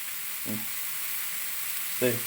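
Kerala clam roast with turmeric, garam masala and salt sizzles steadily in a pan as it is stirred. Two brief low vocal murmurs break through the continuous frying hiss.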